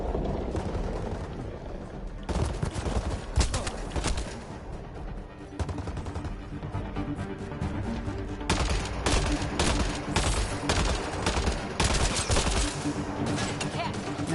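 Sustained bursts of rapid gunfire in the space shooter Mass Effect Andromeda, loud fusillades that pause briefly and then resume more intensely, with a voice occasionally audible in the background.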